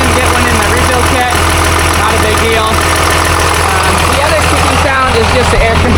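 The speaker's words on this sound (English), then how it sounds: "compressor, building pressure, which you can hear even better down here" An air compressor builds pressure on a 12-valve Cummins engine, a loud, steady mechanical drone with a rhythmic knocking pulse under the engine idle, heard up close with some talk.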